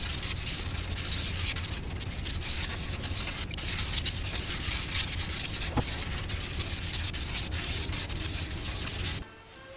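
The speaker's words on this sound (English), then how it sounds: "Now with the sanding done" Continuous abrasive sanding on a motorcycle part during an FZR restoration, steady rasping strokes close up for about nine seconds, then stopping abruptly.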